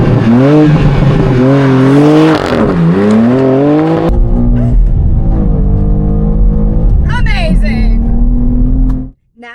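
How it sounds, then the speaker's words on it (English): A 2025 BMW M2 Coupe launching off the line in Sport Plus mode, its engine revving hard and climbing through gear changes, loud and close, with a brief whine and tire sound near the end before cutting off. "this is how it looks off the line when in Sport Plus mode"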